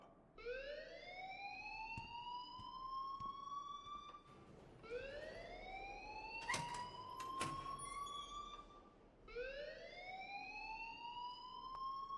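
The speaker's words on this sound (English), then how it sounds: "please turn off that alarm since that's your job" A fire alarm wails in the video game Life is Strange, three long rising electronic sweeps repeating in a regular cycle, loud and alone with no talk over it.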